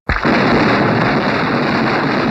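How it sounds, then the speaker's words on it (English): A single loud explosive burst of fireworks from a 1962 film, a sharp onset followed by a sustained dense roar and crackle that holds steady for about two seconds, with no voices. "the next movie has the fireworks ready"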